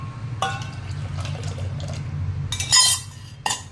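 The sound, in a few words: pouring water into buttermilk mixture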